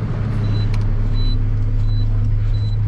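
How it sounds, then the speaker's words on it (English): A truck idles and revs steadily in mud with the differential locked while it backs up. A low engine drone holds throughout, with faint clicks and a thin high whine. "I'm gonna lock the differential, turn the wheel, give it some gas, then let go of the brake sharply"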